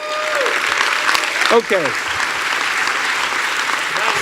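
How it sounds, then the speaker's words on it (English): Sustained applause from a conference audience at a real estate brokers' panel, dense and steady throughout, with a brief spoken word and a short whistle-like sweep near the middle. "But I want you to give yourself a rousing round of applause."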